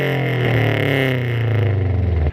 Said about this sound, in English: it's got a very, very loud exhaust, as you guys will hear in just a few